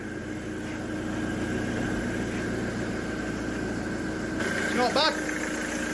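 A car engine that was hydro-locked in flood water idles steadily at a low, even rumble, while a person speaks briefly over it near the end.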